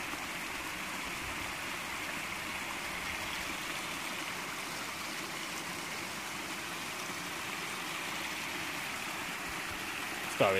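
Water from a stream rushes beside a hiking trail, a continuous broad hiss and burble at moderate distance, steady from start to end with a brief knock near the close.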